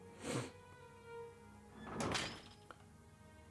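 Knocks on a wooden house door at a lighthouse in a video game, two soft dull thuds about a second and a half apart, faint and hollow against a quiet ambient background.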